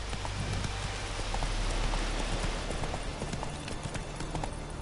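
Roach, a horse in The Witcher 3, galloping with a rapid, steady drum of hooves over a close, dense bed of game noise, continuing for several seconds without a break.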